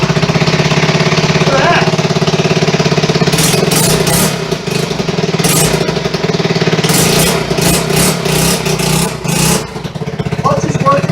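A 1974 Honda XR75 motorcycle engine runs after two years of restoration, a loud, close, rapid single-cylinder rattle with throttle blips throughout, while someone speaks briefly over it.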